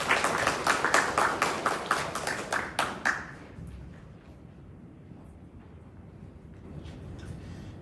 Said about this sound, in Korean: 여러분 박수로 맞아주시죠.